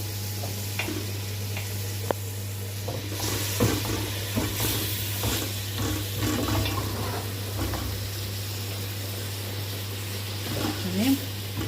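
Onions and black pepper sizzle and get stirred in a pan over a steady low hum, with scraping utensil strokes now and then, while a person talks throughout.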